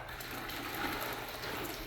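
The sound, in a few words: water running down a prospecting sluice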